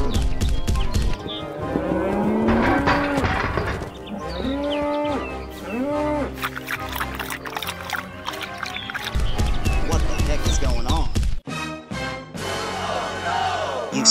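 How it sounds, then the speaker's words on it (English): Farm animals, a cow and a pig, calling loudly on a farm. Drawn-out lowing moos repeat over a steady, busy background with clopping and crowd-like noise throughout. "He's feeding the cow and the pig."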